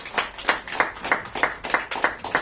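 A church congregation claps for the singers in a steady rhythm of about eight even, crisp claps, moderately close, with no talk over them.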